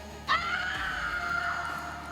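A woman lets out a single sustained scream that starts sharply and then holds at a high pitch for nearly two seconds, close and loud, with no talk.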